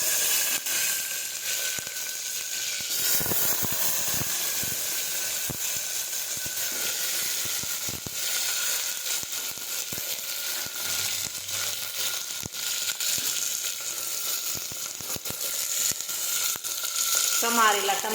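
Mustard seeds, cumin and chopped eggplant fry in hot oil, giving a steady, loud sizzle with scattered crackles and pops that continues throughout with no talking.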